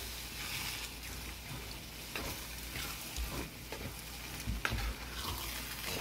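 Sausage meat sauce with tomato sauce stirred through it, giving steady close scraping and sizzling under a broadband hiss with occasional sharper spoon knocks, no talking.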